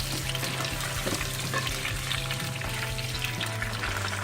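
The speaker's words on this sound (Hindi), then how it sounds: "अब हम आलू फ्राई करेंगे। गुलाबी होने तक आलू फ्राई करेंगे।" Potato pieces fry in oil over high heat, giving a steady, dense sizzle with occasional crackles and stirring noises close by.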